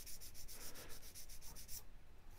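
A sponge sanding file rubs soot off a model part in quick back-and-forth strokes, a soft close scratchy swish repeated about a dozen times before stopping.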